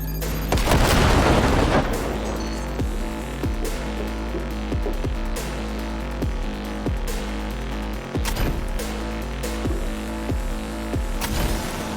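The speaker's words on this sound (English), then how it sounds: "Throwing grenade!" A heavy grenade blast in the Cyberpunk video game opens with a loud booming burst, followed by a dense, continuous rumble of gunfire and repeated thuds that keep the mix loud throughout.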